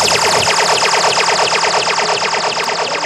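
A loud JB DDS1 electronic dub siren on a club sound system pulses in rapid, steady repeating sweeps, a continuous synthetic wail with fast oscillation and no voices.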